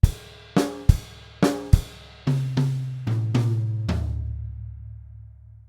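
Drum kit playing two bars of a bossa nova groove from a Grade 3 exam piece, sharp tom hits stepping down from high to low toms, then a sustained low ring decaying into quiet, no talking.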